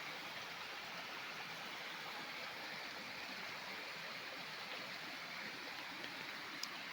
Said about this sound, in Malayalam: ഇങ്ങനെ ഒഴുകിക്കൊണ്ടിരിക്കുക വെള്ളം കണ്ടോ.